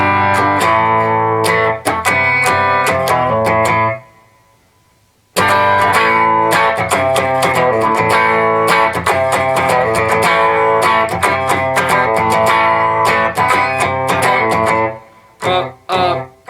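An electric guitar plays the intro and main riff of a song with rapid strummed chords and staccato accents, loud and up close, broken by a short silent pause partway through.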